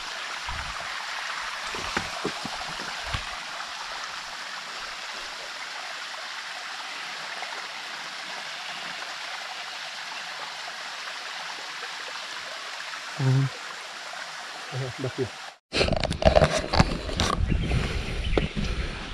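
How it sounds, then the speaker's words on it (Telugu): Constant rushing water from a forest waterfall in Vempalli, Rayalaseema, roars steadily throughout, with a few knocks and a louder, rougher burst of noise near the end. "మనం జలపాతం దగ్గరికి వచ్చాము"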